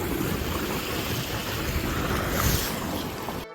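Water gushes steadily into a newly dug village pond being filled for buffaloes to bathe in, a continuous broadband rush mixed with wind buffeting the microphone, with no talking.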